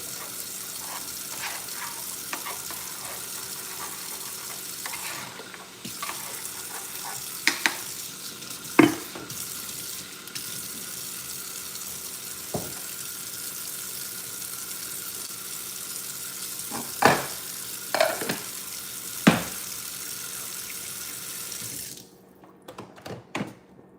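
Grits cooking in a pot give a steady bubbling, sizzling hiss, broken by occasional louder scrapes and clinks of stirring, before the sound cuts off abruptly near the end.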